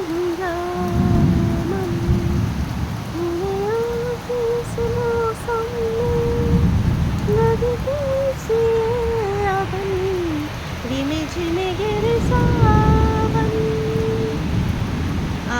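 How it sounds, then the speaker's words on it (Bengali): Heavy monsoon rain pours down in a dense, continuous hiss that swells and eases slightly. A wavering, drawn-out tonal sound rises and falls above the downpour throughout. "হ্যাবক বৃষ্টি হচ্ছে, হ্যাবক।"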